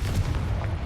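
The Confringo spell cast in Hogwarts Legacy is heard as a short, loud, booming blast that fills the whole brief moment with dense rumbling energy.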